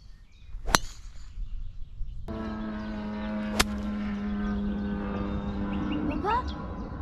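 A jet airplane passes over a golf course, its broad roar rising in and continuing steadily at moderate distance, with a couple of sharp clicks or clanks and faint voices near the end.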